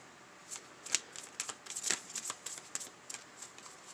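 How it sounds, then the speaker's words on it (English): Close, quiet shuffling of a deck of tarot cards, a series of crisp riffles and soft slaps at an uneven rhythm, with no talking. "Get a nice shuffle up."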